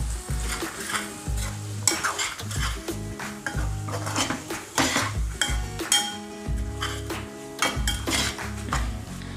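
Groundnuts being stirred into a cooking pot on the heat, with a spoon scraping and clinking against the metal in an uneven rhythm over a soft, constant sizzle, close and fairly loud.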